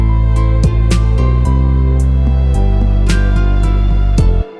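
A high tom drum in a 90s R&B slow jam beat hits repeatedly over a deep bassline and chords, loud and close, with the full beat cutting off at the end.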